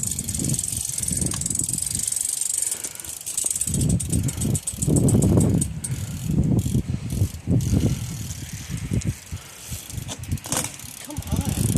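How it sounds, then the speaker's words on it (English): A bike rattles and ticks through a hot crank flip attempt during a game of bike, with clicking freewheel and scraping mechanical noise close by under overlapping talk from several people. "He's going for the hot crank flip again"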